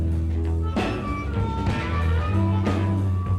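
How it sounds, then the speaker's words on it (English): A band playing live at a January 1966 acid test, an early lo-fi band recording with sustained bass and droning chords, steady loud mix and a couple of sharp attacks cutting through. "What you're hearing is their first known live recording from the January 1966 acid test"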